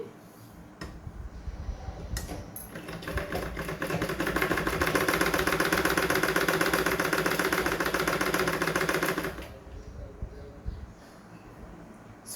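Sewing machine stitching cloth, a fast steady mechanical chatter that starts up, runs for about five seconds and stops, with a voice talking before and after.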